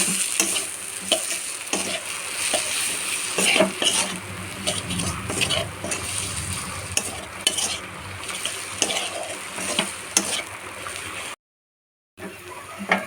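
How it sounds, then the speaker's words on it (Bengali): Spice masala frying in a pan over a low flame for a chicken dish, a steady close sizzle broken by repeated scraping and stirring strokes, with no voices. "মশলাতে না জল দিয়ে লো ফ্লেমে মশলাটা কষে নেব"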